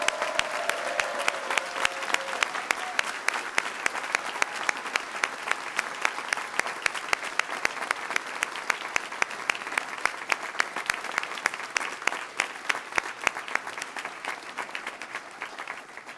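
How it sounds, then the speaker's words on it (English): A large audience at a civil and environmental engineering graduation ceremony applauds the graduates in a long, steady stretch of dense clapping, lasting over sixteen seconds with crisp individual claps standing out. "one more round of applause for all of these incredible graduates"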